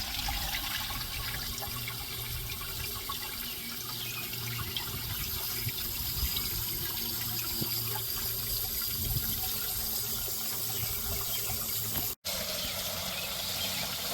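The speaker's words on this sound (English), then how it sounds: "It is flowing good clean water now out of the whole thing." Water flowing out of a car radiator, a steady, hissing rush that continues without a break for the whole stretch and is cut off by a brief dropout near the end.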